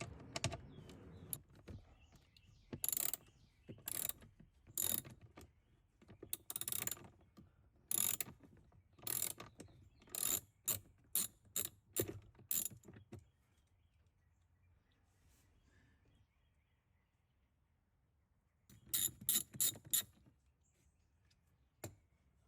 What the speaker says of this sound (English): And now we'll remove the 3 T25 Torx bolts from the top of the glove box.